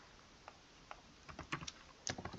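Typing on a computer keyboard: sparse, faint key taps at first, then quicker clusters of clicks, close up and alone.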